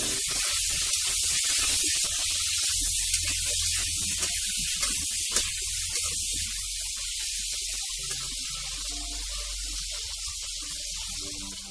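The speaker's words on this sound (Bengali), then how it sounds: "ভালোভাবে নাড়াচাড়া করে" Pointed gourd (potol) pieces frying in a pan with salt and turmeric, a loud, steady high hiss of sizzling oil that fades slightly toward the end, with occasional faint stirring bumps.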